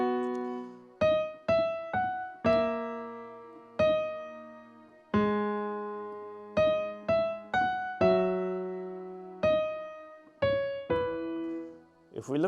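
A solo piano plays the chorus of a song, with about fifteen distinct struck notes and chords that ring and decay one after another, clear and close, with no talking.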